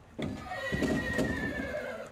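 Competition horses neigh close by at an equestrian event, with one clear whinny rising out of low background noise and some hoof clatter underneath.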